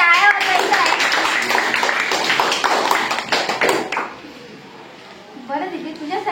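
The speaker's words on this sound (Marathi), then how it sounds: "हिच्यासाठी सगळ्यांनी टाळ्या वाजवायच्या आहे" Children at a Zilla Parishad primary school quiz in Kalwadi break into a burst of dense group clapping for a correct answer, lasting about four seconds before fading into spoken voices.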